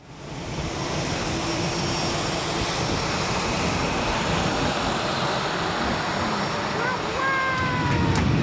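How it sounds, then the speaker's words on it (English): An airplane touching down at JFK International Airport, a loud, steady roar of engine and rushing air that fills the whole stretch and swells slightly near the end. "the most nostalgic moment probably was the touchdown at the JF Kennedy International Airport"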